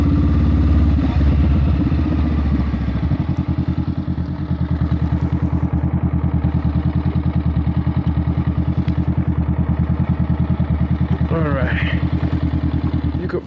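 A Honda Rebel 500 motorcycle engine idles and putters steadily at close range while being parked, a low rhythmic thrum with a brief rev near the start.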